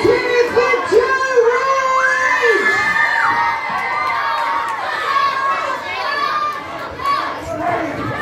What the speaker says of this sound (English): Let's hear it for Joe